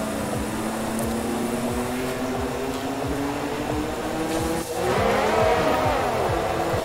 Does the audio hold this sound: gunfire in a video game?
no